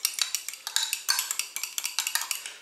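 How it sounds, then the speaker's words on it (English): Sour cream and beaten egg mixed together in a bowl, a quick run of light, rhythmic clinks and scrapes of a utensil against the dish, close and fairly quiet with no voice. "And then just mix the sour cream and the egg together."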